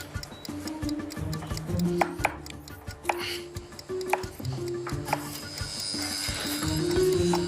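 A chef's knife taps on a cutting board, dicing vegetables into a fine brunoise in a professional kitchen, with irregular quick chops close by under faint kitchen clatter.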